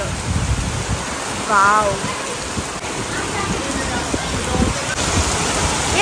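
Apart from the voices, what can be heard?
heavy rain falling at a farmhouse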